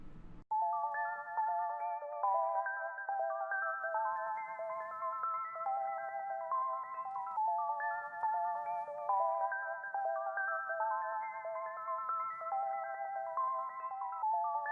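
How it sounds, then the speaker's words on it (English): Guitar-style arpeggio for a trap beat, programmed in FL Studio and played at its original octave: bright plucked notes cycle in a steady repeating pattern, loud and continuous, with no voices. "we've got the arp up an octave, or at its original octave"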